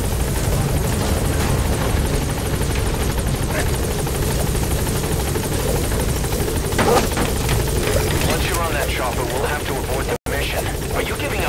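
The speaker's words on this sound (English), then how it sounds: "Support helicopter has arrived." A support helicopter's steady rotor thrum and engine roar in Metal Gear Solid V: The Phantom Pain fill the scene at constant loudness, with game voices and effects mixed in over it.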